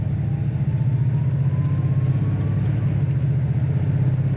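A 1970 Dodge Super Bee's engine hums low and steady from inside the car while cruising, its pitch rising slowly through a gear change, with no talking.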